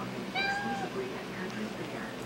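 A cat gives a single short meow indoors, fairly soft and close, followed by quiet room tone.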